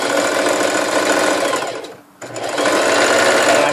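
A sewing machine stitches along a fabric edge with a steady fast mechanical whirr, close and loud, stopping briefly midway before running on again.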